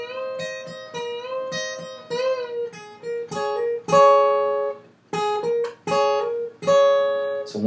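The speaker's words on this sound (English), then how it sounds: "That's kind of like a pedal steel lick." A clean electric guitar plays a pedal-steel-style lick of bent notes on the high strings, sliding up into pitch with sustained ringing tones and short gaps between phrases, close and clear with no talking.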